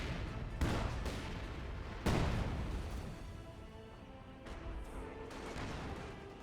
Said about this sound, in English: Here comes the light artillery barrage.